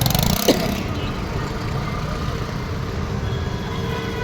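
A vehicle engine runs steadily at close range in Hadapsar, Pune, a continuous low rumble filling the whole stretch, with a brief sharper noise near the start.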